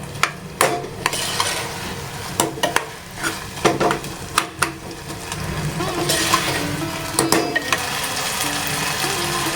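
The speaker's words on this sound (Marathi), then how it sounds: "गूळ टाकून घेऊया आपण। याला छान असं परतूया जरा असं।" A spoon stirs grated coconut and jaggery as the jaggery melts in a pan, giving repeated scraping taps over a soft, steady sizzle, close and moderately loud, with no talking.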